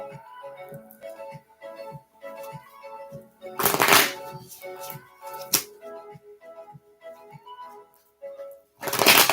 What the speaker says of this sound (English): I'm going to shuffle the cards good.